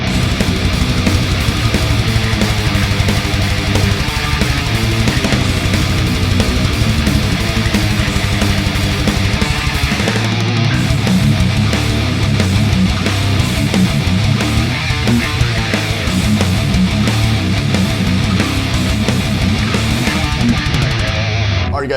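A heavily distorted 7-string electric guitar churns out a fast thrash and death metal riff, with loud, dense palm-muted chugging and continuous aggressive picking that runs unbroken and close for over twenty seconds.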